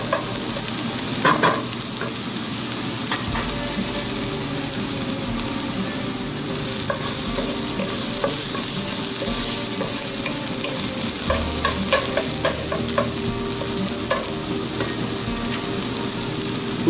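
Garlic sizzles steadily in a hot pan while a utensil stirs and scrapes it, with close, continuous frying hiss and intermittent clicks of stirring throughout.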